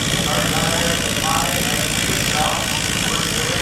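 A Farmall C or Super C tractor engine labors under load at a tractor pull at a gas and steam engine show, a constant loud, rough drone with outdoor crowd noise mixed in.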